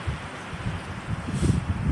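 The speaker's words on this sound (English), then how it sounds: "It's cloudy and windy." Wind gusts outdoors on a cloudy day, a steady low rumble buffeting the microphone with rustling bursts that swell louder toward the end.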